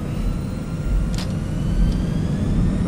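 Steady low engine roar from an Airbus A319 spooling up for takeoff in X-Plane 11, a continuous broadband rumble building slightly in loudness, with a couple of faint higher whooshes over it.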